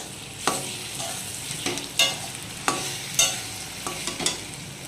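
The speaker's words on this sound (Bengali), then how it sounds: "দিয়ে খুব ভালো করে ভাজা ভাজা করে নেব তিলটাকে।" Sesame seeds frying in a pan sizzle steadily while a utensil scrapes and stirs them in repeated sharp strokes, about one every half second, close and clear.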